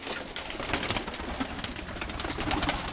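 Old pigeons coo in a dovecote amid a dense, steady wash of rustling and soft calls, with no single voice standing out.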